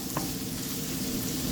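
Onions caramelizing in a frying pan while being cooked for chilli egg Maggi noodles, a continuous close sizzle and crackle with faint stirring scrapes, moderately quiet and without talking.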